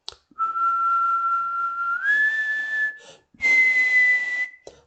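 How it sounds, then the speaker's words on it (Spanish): A person whistles clear sustained tones in two phrases, the pitch sliding upward partway through the first and holding steady in the second. "Si yo silbo entonces,"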